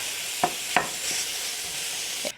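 Minced meat frying in a pan, a steady bright sizzle with a couple of scraping stir knocks and a faint closing clatter.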